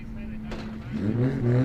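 Pro Sport 235 drift cars rolling out onto the track at Taupo Motorsport Park, engines rising from a low idle to a building roar, fairly close with a voice talking over them.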